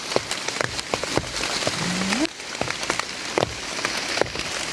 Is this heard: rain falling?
yes